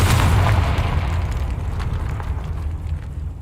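A Confringo blasting spell detonates in the Hogwarts Legacy video game, a loud, deep booming blast with a rumbling low end that rolls and slowly dies away over a few seconds.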